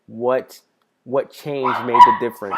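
Pet dog barking close by in a home, two or three sharp yips and barks, the last overlapping a person speaking.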